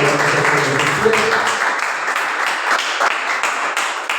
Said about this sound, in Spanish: Pídele un fuerte aplauso al Señor.